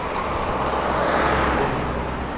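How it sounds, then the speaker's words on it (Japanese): A truck passes by on a road near a convenience store, its engine and tire roar swelling and fading in a broad steady rush of traffic noise. "あ、これさっきのトラックか。"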